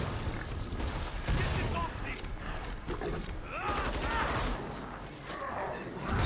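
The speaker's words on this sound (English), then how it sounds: "Shotgun sucks because you gotta reload." Shotgun and other gunfire from the video game Killing Floor 2 crackle in rapid, dense volleys at moderate level, mixed with game effects while players talk over the action.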